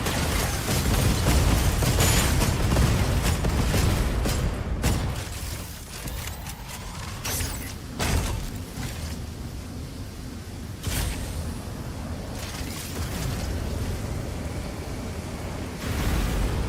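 Missiles launching and exploding in the video game Rimworld: loud, continuous roaring blasts with repeated sharp bursts and booms layered over a heavy noisy rumble, no voices.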